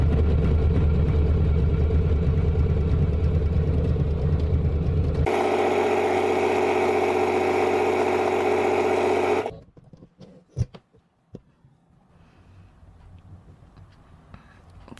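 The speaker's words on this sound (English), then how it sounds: "I'm going to line the fabric right up to the edge of that lip and sew it with the automatic settings." A sewing machine on automatic settings sews a raw fabric edge lined up against a presser foot lip, humming steadily and loudly, changing tone partway through, then stopping abruptly, followed by faint handling clicks and rustles.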